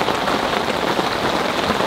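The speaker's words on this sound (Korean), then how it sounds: "와, 빗소리 진짜 좋다." Heavy rain drums steadily on a new tent at a campground, a close, loud, unbroken patter of drops on the canopy with no voices.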